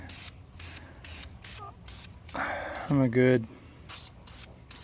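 An aerosol spray paint can lays light bursts of paint onto brake calipers in short, repeated hissing puffs at close range. Someone talks over part of it.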